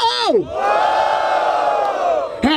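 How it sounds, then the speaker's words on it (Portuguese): A crowd at a rap battle event in Barueri, São Paulo, cheers and shouts in one loud sustained collective roar that swells between sharp whoops and yells. "Palmas pra essa batalha!"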